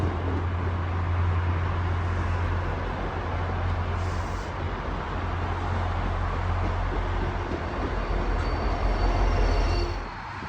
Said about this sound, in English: I was exploring the area when suddenly the Reedville Switcher appeared